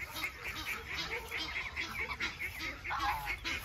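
Egyptian geese and their goslings make repeated honking and quacking calls at moderate distance, with a low murmur running underneath.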